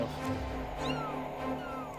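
A kitten on a riverbank gives a few faint, thin meows over a steady low background hum, heard at a distance and fairly quiet.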